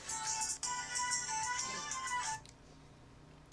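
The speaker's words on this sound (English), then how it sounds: "That's my phone." A mobile phone rings with a bright repeating electronic tone in regular pulses for about two and a half seconds, then stops, leaving quiet room noise.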